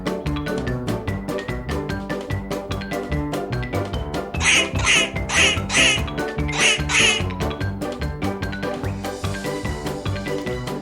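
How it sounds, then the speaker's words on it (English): Over a bouncy backing tune, a duck quacks in two quick bursts of three or four loud, nasal calls. "Duck."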